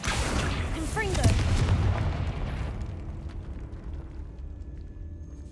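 A single loud fiery blast from a Confringo spell in the Hogwarts Legacy game, a booming burst with crackling that dies away into a quiet, hollow room tone.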